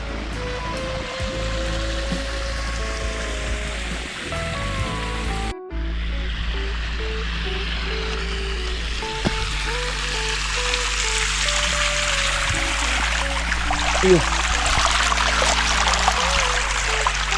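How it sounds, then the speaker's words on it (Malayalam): Small forest stream at Thattupara viewpoint near Merigiri, water flowing and trickling over rocks in a steady continuous rush, close and fairly loud, with a brief knock early on and no speech. "ഇതൊരു മെയിൻ അട്രാക്ഷൻ കൂടി ആട്ടോ ഈ ഒരു അരുവി കണ്ടോ"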